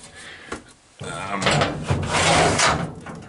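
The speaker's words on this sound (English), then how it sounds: "it's got a lot of nice drawers, and it's got this really cool like garage door" Rolling, garage-door-style lid on a Kennedy metal toolbox being slid along its track, a short clunk followed by a rattling, scraping roll that runs for a couple of seconds, close and fairly loud.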